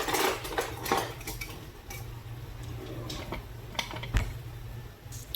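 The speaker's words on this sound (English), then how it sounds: "we'll spoon those out with a slider spoon" Cooked beans being spooned out of a pot with a metal slider spoon, a few soft metallic scrapes and clinks against cookware, close and fairly quiet over a low kitchen hum.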